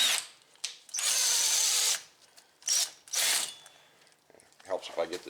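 A 1/2-inch impact wrench drives a hub cleaning tool over the wheel studs of a 2006 Buick Lucerne hub in several loud, close bursts separated by short pauses.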